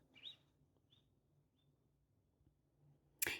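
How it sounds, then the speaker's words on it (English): A bird gives three short, chirping calls, each fainter than the one before, as it moves off into the distance against a quiet background, ending in a sudden loud burst of noise. "I don't know if you heard that bird, but it was like coming close and it went off into the distance."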